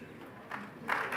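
Audience applause at a school senior awards ceremony, a moderate patter of clapping that swells in two bursts, with some murmuring beneath it.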